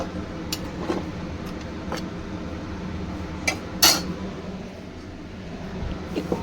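A spoon stirs potatoes into mutton curry in a pot, giving a few sparse metallic clinks and taps against the pot over a low steady background hiss, with faint talk.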